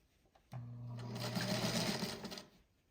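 Sewing machine stitching a seam on a 10-inch autumn patchwork quilt block, a steady close whirring run of about two seconds that starts abruptly and then winds down, with no talking.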